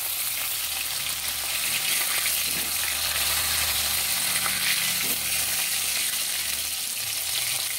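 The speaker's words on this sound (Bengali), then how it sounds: "উল্টে পাল্টে মাছগুলো ভেজে নিচ্ছি" Tilapia fish fries in a pan of hot oil while the pieces are turned over, giving a steady, close, loud sizzle with a few faint clinks from stirring and no voices.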